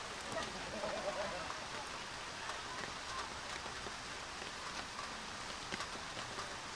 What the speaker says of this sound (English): And it is raining harder and harder.